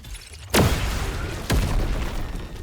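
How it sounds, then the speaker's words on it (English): Plasma Cannon finisher effect in the video game Tech Prodigy Ultimate: two sharp, loud booming blasts about a second apart, each with a sweeping descending tail over a dense rumbling wash. "Next, we have a new finisher for Plasma Cannon."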